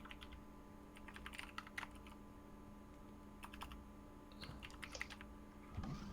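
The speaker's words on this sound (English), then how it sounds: "I hear lots of frantic typing." Fast, frantic typing on a computer keyboard comes in bursts of clicks over a low steady hum, close and moderately quiet, with short pauses between flurries.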